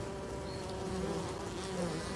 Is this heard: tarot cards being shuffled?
no